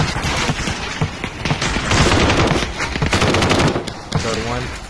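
Rapid gunfire from the VR shooter Aim XR, including shotgun blasts, fires in loud, dense bursts close by, with a voice talking briefly near the end.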